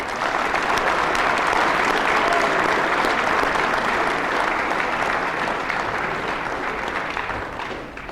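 Sustained crowd applause in a college gym for the basketball team, dense and even, holding strong before tapering slightly at the end.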